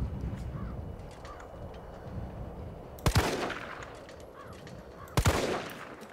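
Gunshots in the Resident Evil 3 video game, two sharp loud cracks about two seconds apart, each with a short echoing tail, over a low ambient hum and faint bird-like cawing in the background.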